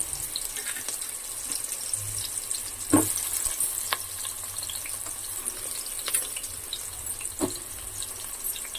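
Onions frying in oil for a Nellore-style fish curry, a steady soft sizzle with faint watery clatter and a few sharp stirring clicks, no voices.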